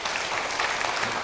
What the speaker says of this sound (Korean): 우리 수관 갈보리 찬양단을 위해 격려의 박수 할까요?